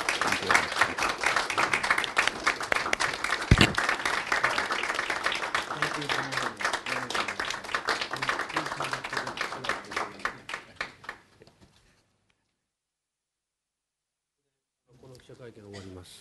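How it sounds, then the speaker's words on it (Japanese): Press conference attendees give a round of applause for the OPCW director-general, a dense patter of clapping that fades out, falls silent, then resumes faintly. "ちょっと拍手をお願いいたします"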